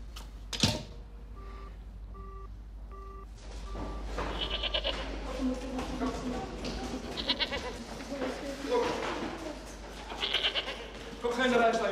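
A goat bleats repeatedly among a group of people talking and moving about, with a few short electronic beeps near the start and a busy, mid-distance background.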